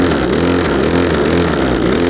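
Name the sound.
Cobra LRH270K petrol hedge cutter engine revving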